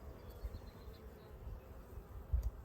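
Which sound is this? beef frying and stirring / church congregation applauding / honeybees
honeybees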